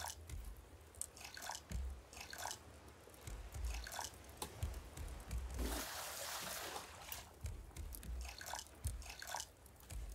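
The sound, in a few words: watering crop plots in video game Raft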